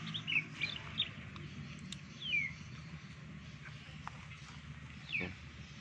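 A white-rumped shama (murai batu), an F3-bred bird, gives a few short, sharp chirps spaced seconds apart, faint against quiet background noise.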